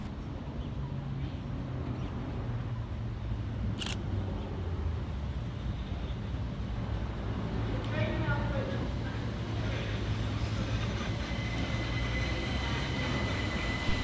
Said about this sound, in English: Arriving next into the station will be 377460 and 377425, working the 1634 Southern service from London Bridge through to London Victoria.